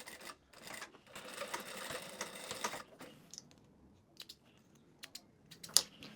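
A sewing machine stitches a seam on a pair of shorts in one fast, rattling burst lasting about three seconds, then falls silent. Soft clicks and handling noises follow.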